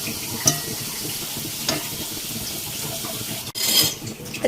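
Maggi noodle pakora balls bubble and sizzle in hot oil in a steady, close hiss, with a few brief clinks from a utensil breaking through.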